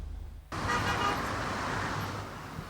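Road traffic on the Nyanya-Maraba Road in the Federal Capital Territory, Nigeria, a steady wash of car engines with a brief horn toot, starting abruptly after half a second of near silence and continuing at a constant level.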